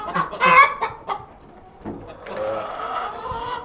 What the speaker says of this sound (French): il y a des poules, il y en a partout